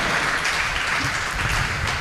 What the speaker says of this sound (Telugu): గట్టిగా చప్పట్లు కొట్టండి, గట్టిగా దేవునికి స్తోత్రం